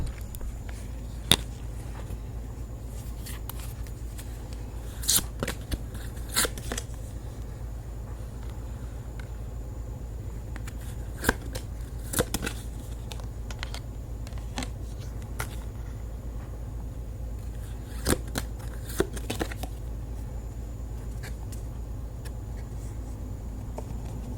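Tarot cards being shuffled by hand, a series of soft flicking riffles and taps spaced out over a low steady background hum, close and fairly quiet, with no talking.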